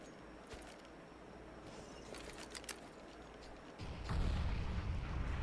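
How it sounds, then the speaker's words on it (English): Grenades exploding in Counter-Strike: Global Offensive, a few faint distant pops and cracks amid low combat ambience, followed near the end by a louder, deep booming blast that swells and lingers. "nade stack almost obliterates Rane Kaka from the server"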